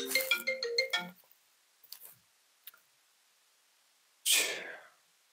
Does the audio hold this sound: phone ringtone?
yes